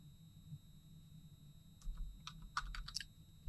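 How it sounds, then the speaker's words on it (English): A short burst of clicky keystrokes on a computer keyboard as a coin name is typed into an online grading submission form, fairly close over a quiet background. "you type in the name of the coin, Eisenhower or whatever"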